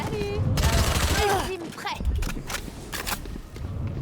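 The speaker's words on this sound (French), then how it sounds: "Ça tire, faites attention à la smoke, Sage." Gunfire from a Valorant match, with bursts of shots under steady game ambience and footsteps while people talk over voice chat throughout.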